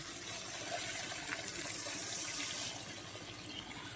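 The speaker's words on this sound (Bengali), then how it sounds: "এই পর্যায়ে আমি দিয়ে দেবো জল" Water is poured into fried masala for a bhola fish curry, making a steady gushing, splashing rush that stays fairly quiet and unbroken and eases slightly near the end.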